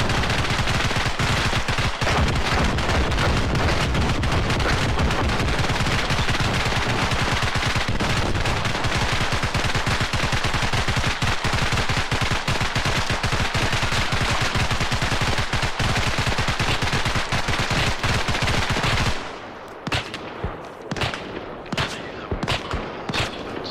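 Heavy sustained machine-gun and rifle fire in the military shooter Arma Reforger, a dense, continuous loud roar of overlapping bursts for about nineteen seconds, then thinning to separate sharp shots and short bursts, with no talking.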